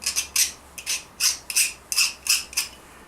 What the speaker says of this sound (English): take a nice fine file like this and just give everything a clean off